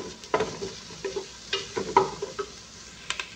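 Chicken being stirred in a sauté pan over garlic, with a steady soft sizzle under repeated scraping and clinking of the utensil against the pan, close up and without talk.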